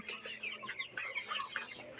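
Broiler chickens about 27 days old cluck and chirp softly together, a dense, continuous flock murmur heard from close by with no talking.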